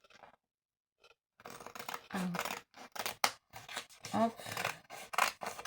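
Scissors cut out a snowman sticker for a Christmas decoration, giving a run of quiet, close snips and paper rustles, with a person speaking briefly near the start.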